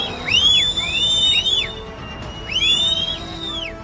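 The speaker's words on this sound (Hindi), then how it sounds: "हर तरफ सीटियां जरूर सुनाई देती हैं।" Shrill whistles blow in two rising-and-falling bursts, several sounding at once as a warning during a cloudburst flood in Dharali, Uttarakhand, separated by a short pause over faint background noise.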